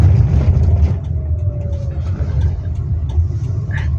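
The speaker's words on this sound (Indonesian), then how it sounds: "Aku pelan aja wes, aku pelan aja biar mobilnya nyalip aja." A car cruises along a road with steady low engine and tire rumble while another vehicle draws past to overtake, the passing sound rising briefly midway; fairly close and continuous, with no clear talk.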